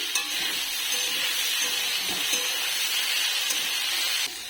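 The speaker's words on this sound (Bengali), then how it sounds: "এখানে হচ্ছে আলু আর উচ্ছে ভাজা করছি" Continuous crackling sizzle of potato and bitter gourd frying in hot oil, steady and close, with faint stirring scrapes.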